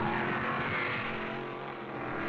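Race cars, among them Cobras and Chaparrals, roar around the Watkins Glen circuit in a steady, loud, continuous engine drone with no voices.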